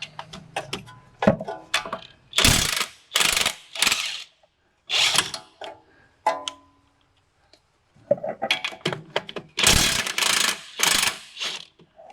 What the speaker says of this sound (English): so we can take the 3 nuts off holding the hub on